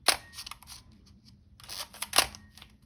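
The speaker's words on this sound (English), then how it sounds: "Shutter speeds seem to be responding well." A Minolta XG-1 film camera being repaired for an intermittent shutter, its shutter firing with a sharp click, then a soft mechanical whir and a second crisp click, close up and quiet.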